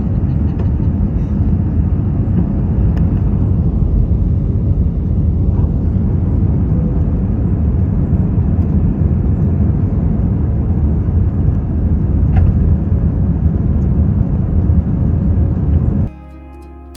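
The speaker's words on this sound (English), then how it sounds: "Wheels up, enjoy the quick flight." Steady, loud cabin drone of an airliner in flight bound for El Salvador, a dense low roar holding constant for about sixteen seconds before cutting off abruptly.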